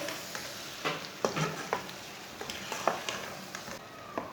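Arbi curry is stirred in a pan after lemon juice goes in, giving soft repeated spoon scrapes over a low, quiet sizzle with no talk.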